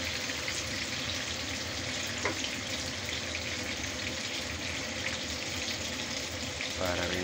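Banana slices fry in hot oil with a continuous, fairly quiet crackling sizzle that holds steady throughout, under occasional background noise.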